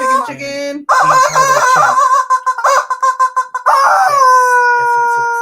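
A chicken clucks and a rooster crows, loud and close, with rapid rhythmic clucking phrases followed by a long drawn-out crow that fades at the end.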